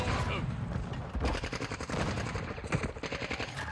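Rapid gunfire in a Call of Duty: Modern Warfare II multiplayer match, with dense bursts of automatic shots crackling continuously across the clip, loud and close.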